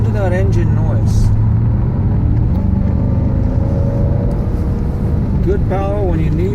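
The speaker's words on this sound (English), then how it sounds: "Listen to that engine noise." A 2001 Jaguar XKR Silverstone engine drones steadily and loudly while driving, a constant low rumble under someone talking throughout.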